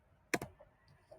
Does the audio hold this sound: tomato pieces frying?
no